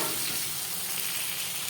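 Potato and taro chunks fry in a pan, giving a steady, close hiss of sizzling oil with faint stirring scrapes running under it the whole time, and no voice.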